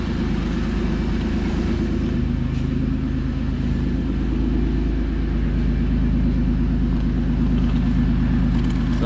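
A re-geared third-generation Toyota 4Runner with 4.88 gears has its rear end running, giving a steady, loud, close low rumble of drivetrain and engine that holds evenly throughout with no talking.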